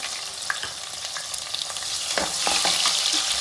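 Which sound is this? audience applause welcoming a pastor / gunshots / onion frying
onion frying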